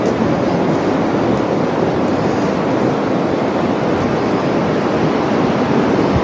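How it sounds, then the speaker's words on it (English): Ocean surf and wind along the foggy Pacific shore at Long Beach, Tofino, a steady, dense roar of breaking waves with buffeting wind, continuous and fairly loud throughout, with no talk. "The edge of the Pacific Ocean."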